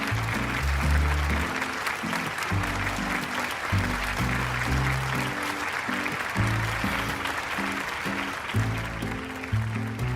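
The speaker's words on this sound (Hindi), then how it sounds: "इनके लिए तो जितनी बार तालियां बजाई जाए कम पड़ेंगी।" An audience applauds at a gathering for an uncle who made a drug, a continuous wash of clapping that runs evenly over a rhythmic low musical backing throughout.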